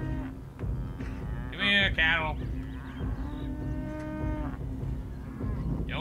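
Cattle in the GTA V roleplay game moo several times, with long, loud, drawn-out lows and some shorter calls over a steady background. Someone briefly speaks over the animals.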